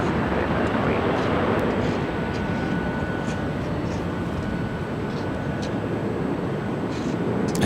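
Delta Airlines Airbus A321, flight 2861 to Detroit, rolls down runway 24 left at LAX: a loud, steady, broadband engine roar that stays constant throughout, heard fairly close.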